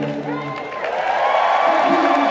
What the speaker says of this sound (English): we're singing happy birthday